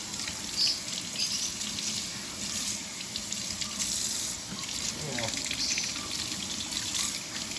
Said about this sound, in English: So after they're scaled out, just gonna give it another quick little rinse here.